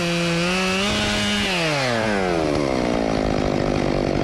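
A chainsaw cuts through a felled tree, its engine loud and close, the pitch sliding downward as the chain bogs into the wood and then holding steady while the cut continues.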